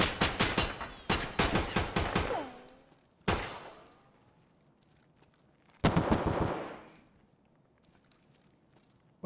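Gunfire in Escape From Tarkov, loud rapid bursts of automatic shots in clusters separated by silence, with a single shot and another burst later, each ringing out with echoing tails.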